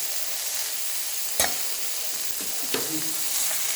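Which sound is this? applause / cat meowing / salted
salted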